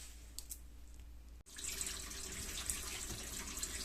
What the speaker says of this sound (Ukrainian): І зараз миємо тепленькою водою вже на чисто